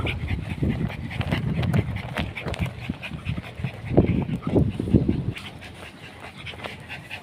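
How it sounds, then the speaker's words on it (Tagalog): A dog pants rapidly and heavily up close, with a few soft whimpers mixed into the rhythmic breathing. "Alaga kong aso."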